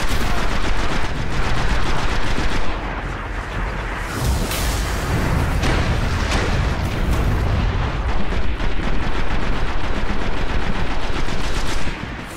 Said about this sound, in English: Why is my own guy shooting at me?